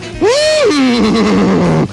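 A horse gives one loud, close whinny lasting under two seconds, rising and then falling in a wavering pitch, with no voices or other sounds around it.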